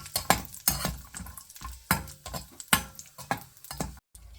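A spoon stirs 50 grams of cashews frying in ghee in a pan, giving close, irregular metallic scrapes and clinks against the pan, steady and fairly loud with no talking.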